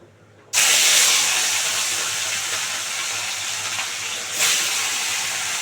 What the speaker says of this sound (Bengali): কড়াই গরম হয়ে গেছে, এবার মাছগুলো ভেজে নেবো।